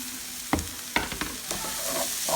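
Italian sausage and zucchini stirred in a hot pan, with a steady sizzle and a few sharp scrapes and clacks of the utensil, heard up close and without speech.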